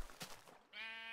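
Single close bleat from a sheep in Minecraft (Tekkit), after a few soft game clicks, short and clear.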